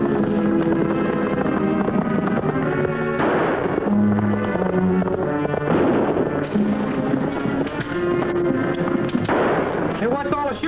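Repeated gunfire pops in an old western film, several shots spread over the stretch, mixed with a music score and brief voices.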